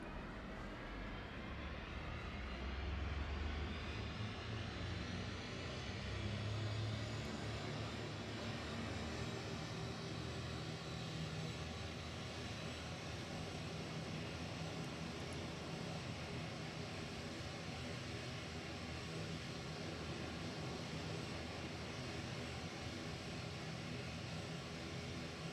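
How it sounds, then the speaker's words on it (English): Aircraft engine roar at the AeroKosh 2024 airshow as planes perform touch-and-goes in front of the crowd, a sustained steady drone swelling briefly early on. "Now the aircraft in the west of the airfield repositioning to both perform touch and goes directly in front of us."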